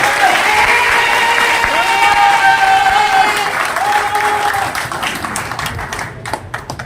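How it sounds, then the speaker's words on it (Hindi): Loud, sustained audience applause at a Hindi-language RCM business seminar in Bhabhua, a dense wash of clapping that thins toward the end, with a voice talking over it. "एक बार मैं चाहूंगा जोरदार तालियां बजनी चाहिए गामा ओरिजिनल के नाम पे"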